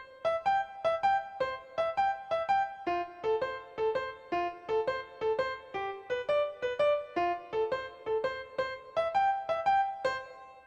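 A simple melody in C plays on a Yamaha keyboard, a steady, even run of bright tones in a gentle repeating rhythm, clear and alone throughout.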